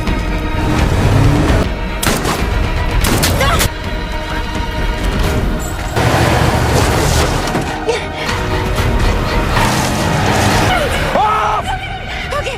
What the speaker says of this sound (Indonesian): si pilot yang bernama Thomas tersebut terus berupaya menghentikan Ellie dengan melepaskan beberapa kali tembakan.